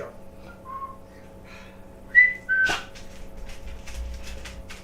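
Two short, sharp whistles ring out over a quiet room hum, followed by a thump and some faint scuffling noises.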